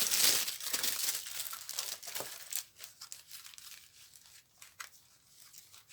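Tissue paper wrapped around a parcel crinkles and tears as it is unwrapped, close and continuous, loudest at first and then easing into softer scattered rustles.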